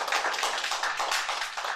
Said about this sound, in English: I would like a big clap for